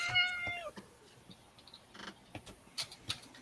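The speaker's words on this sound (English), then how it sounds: "Was that your cat?" A house cat gives a short meow at the start, followed by faint room noise and soft clicks during a tabletop fantasy game session.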